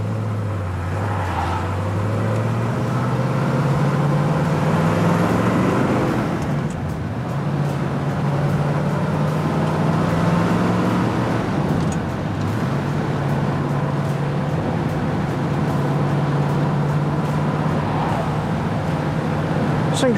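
A restored black 1967 Corvette drives on the road, its engine droning loudly and close, climbing in pitch and then dropping back through several gear changes, with no talking.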